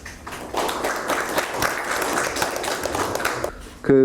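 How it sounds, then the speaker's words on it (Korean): Audience applause at a policy forum on bridge deck pavement welcomes a professor to the podium, a steady dense clatter of clapping for about three seconds before a voice begins at the end. "박수로 맞이해주십시오."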